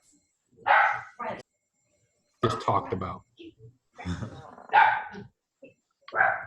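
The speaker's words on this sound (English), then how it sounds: "That happened where our dogs bark a lot" Household dogs bark in short, separate bursts between stretches of close conversation, with people talking over and around the barking.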